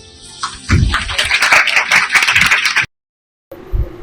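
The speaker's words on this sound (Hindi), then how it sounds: "जोश तालियों के साथ बताएं कि आप लोग यहाँ पे मौजूद हैं।" Applause from a school audience at a 14 August Independence Day celebration: a burst of loud, dense clapping lasting a couple of seconds, a brief silence, then a short softer flurry of claps.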